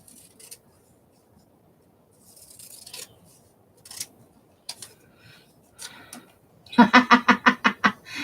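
Scissors trim paper with sparse snips early on, then a quick rhythmic series of about eight crisp cuts close by, with light handling noise between.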